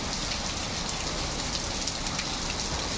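Steady rain falls outside a village home, a dense, even hiss that continues without a break for the whole stretch, with no voices.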